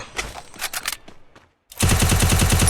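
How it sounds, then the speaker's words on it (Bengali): Bursts of video-game gunfire during a 1v4 battle-royale fight, a few scattered shots first, then after a short silence a loud, sustained rapid automatic fusillade that fills the rest of the moment. "ও আমাকে ফায়ার দিতেছে"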